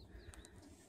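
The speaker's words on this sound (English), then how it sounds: "some birds you can probably hear" A couple of brief bird calls sound at a distance in a river valley at Nestucca Bay National Wildlife Refuge, Oregon, quick high notes over a quiet outdoor background.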